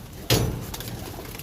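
Caged pigeons give a brief, soft coo after a sudden clattering burst. The sound is close and short, with no talking.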